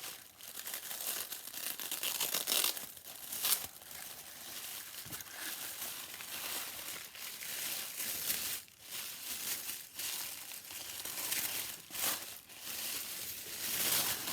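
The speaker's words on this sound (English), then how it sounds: "So much tissue paper." Tissue paper crinkles and rustles continuously while Dior limited-edition luxury plates are unboxed from double wrapping, with close, busy crumpling and sharper bursts of tearing-like crackle throughout, no voices.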